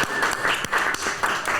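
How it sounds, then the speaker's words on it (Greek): Studio audience applause for a host introducing a board-game episode, a short burst of steady clapping at moderate volume with no speech over it. "Τώρα ένα δυνατό χειροκρότημα."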